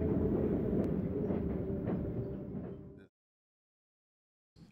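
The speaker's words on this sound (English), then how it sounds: "A southbound train running to Emeryville is returning shipyard workers to their homes after their shift." A southbound passenger train runs along rails, rumbling loud and close with a steady roll and faint clatter that fades over about three seconds, then cuts to near silence before a brief noise at the end.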